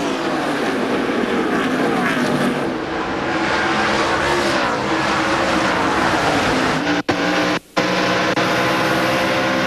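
Stock cars roar around the track in a 2001 NASCAR Busch Series race, a continuous loud engine drone with pitch sweeps as cars pass, briefly cutting out twice near the end.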